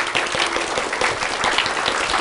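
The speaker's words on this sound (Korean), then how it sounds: "박수로 환영해 주시면 감사하겠습니다" An audience at a celebration for successful exam candidates claps to welcome the academy director, a dense, steady wash of many hands without pause.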